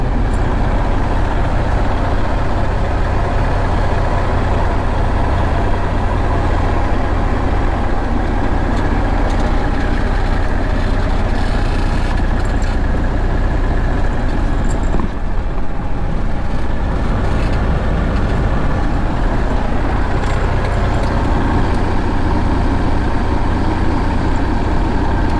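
Heavy trucks idle in a truck stop parking lot while waiting in line for a truck wash, a steady low rumble of diesel engines filling the scene with no pauses or talk.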